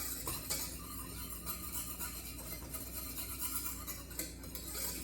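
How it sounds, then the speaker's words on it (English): A whisk stirs chocolate sauce ingredients in a saucepan in a kitchen, giving continuous soft scraping and clinking against the metal with a faint background hum. "we're going to whisk that together until all the lumps are mostly gone"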